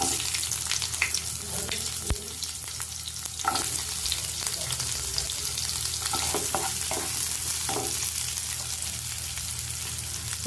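Steady sizzling of onions frying in hot oil with whole spices (cinnamon, cardamom, cloves), with occasional stirring scrapes and clinks, no voices.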